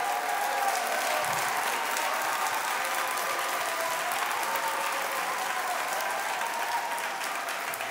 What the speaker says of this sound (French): Je vous demande d'applaudir très fort l'orchestre de The Voice Afrique francophone saison 3